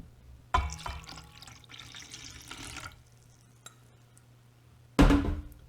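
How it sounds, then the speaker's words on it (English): Water poured into a bowl of cream of mushroom soup for Salisbury steak gravy: a close splashing pour lasting a couple of seconds, a pause with a faint drip, then a brief louder splash at the end. "Next, I'm going to add my water."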